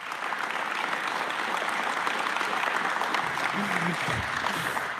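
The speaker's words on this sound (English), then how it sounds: "give him a round of applause" Applause for Marty at a Conservative political event: a crowd claps steadily and fairly loudly, and a voice rises briefly near the end as the clapping continues.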